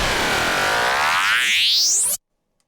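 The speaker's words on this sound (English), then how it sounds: "I have 6 of these frequency echoes after each other here" Three stacked frequency-echo effects with automated delay and shift produce a dense, loud sweep of many layered tones that glide upward together for about two seconds, then cut off abruptly into silence.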